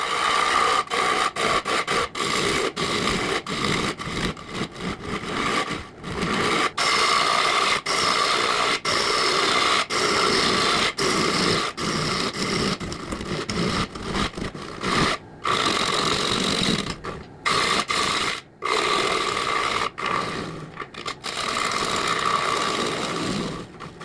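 Wood lathe cutting an overlong, bouncing workpiece: a steady, loud rasping scrape of tool on spinning wood, broken by frequent brief gaps as the cut catches and lifts, running throughout with no talk.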